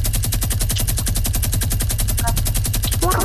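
Minigun blazing in a video game: a loud, continuous rapid-fire stream of shots, rhythmic and unbroken for about three seconds, with brief voice fragments near the end.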